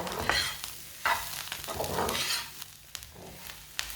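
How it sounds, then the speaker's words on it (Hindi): Semolina roasts in a pan, with close, continuous scraping and stirring over a light sizzle, the strokes coming in uneven bursts. "सूजी को भून लेंगे, सूजी का कच्चापन ख़त्म हो जाएगा।"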